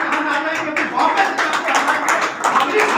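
A seminar audience in a hall welcomes a speaker with rhythmic, fairly loud group clapping while a voice speaks over the applause.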